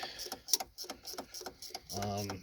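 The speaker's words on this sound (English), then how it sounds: "this is where ratcheting wrenches come in handy" A ratcheting wrench turns a 10 mm bolt on the ABS cable bracket during a front strut job on a Town & Country or Dodge Caravan, giving quiet, rapid clicks in short bursts, followed by a brief voice.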